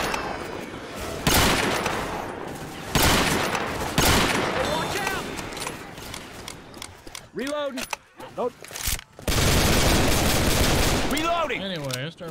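Left 4 Dead 2 gameplay with bursts of rapid automatic gunfire, separated by short pauses, over a dense mix of game effects, while players talk throughout.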